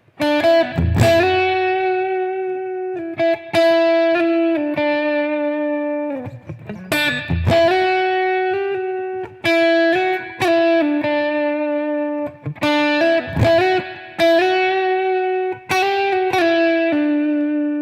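Electric guitar playing a melody through amp effects with distortion, a series of sustained, ringing notes with bright overtones, separated by short pauses and picked attacks, loud and close.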